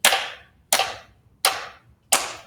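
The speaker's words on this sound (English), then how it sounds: "You're going to clap along to this beat." Four sharp, evenly spaced claps, each a crisp hit with a brief decaying tail, keeping a steady beat in a quiet room, as fourth-grade music students clap along to a click.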